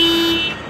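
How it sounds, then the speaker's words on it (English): A car alarm blares in a short loud burst of steady electronic tone near a 2016 Dodge Ram quad cab Big Horn, fading slightly toward the end. "Somebody has a very, very iffy alarm."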